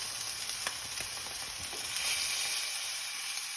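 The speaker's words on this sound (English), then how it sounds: "Cold steak just hit the hot pan" A cold ribeye steak sears in a hot pan with a continuous close hiss and crackle, occasional pops rising over the steady sizzle and no talking.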